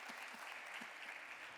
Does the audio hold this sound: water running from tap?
no